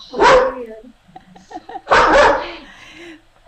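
A dog barks twice, loud and close, with the two sharp barks about two seconds apart and softer whimpering yips between them.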